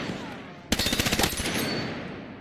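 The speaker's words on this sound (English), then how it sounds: "This gun fires so damn fast." An automatic weapon in Battlefield 6 fires one very fast burst of about a dozen rounds, sharp and close, after a moment of ambient background, and its echo trails off afterward.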